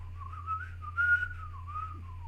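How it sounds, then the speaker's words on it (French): A man whistles a flowing melody from Peer Gynt in a film scene, a single clear sustained tune with gentle pitch glides, heard alone against a quiet low hum. "on entendra siffloter"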